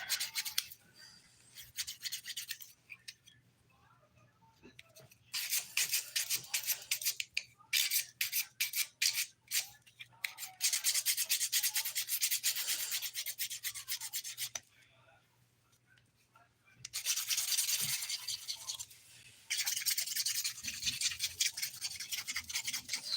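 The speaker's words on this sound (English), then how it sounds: "Smoothing this with the 180 grit side of my file." Glitter dip-powder nails being shaped and smoothed with the 180-grit side of a nail file, in bursts of quick scratchy rubbing separated by short quiet pauses, close and fairly loud.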